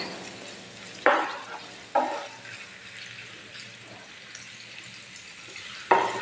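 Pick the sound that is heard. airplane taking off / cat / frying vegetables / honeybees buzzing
frying vegetables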